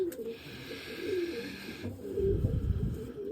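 Pigeon cooing from breeding birds in a loft, with soft low coos under a steady high-pitched hum and shuffling movement nearby; no talking.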